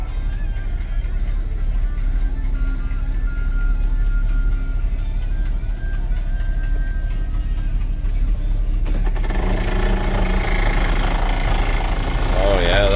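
A 1979 Ford F600 4WD former grain truck idles with a low, steady rumble and faint knocking throughout, with a brief tonal whine near the end.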